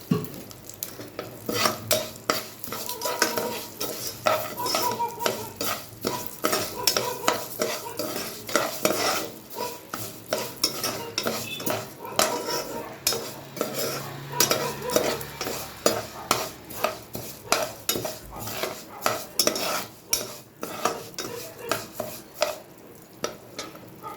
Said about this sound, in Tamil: இது வந்து லைலான் ஜவ்வரிசி. அதை போட்டு இப்போ வறுத்து எடுக்கணும்.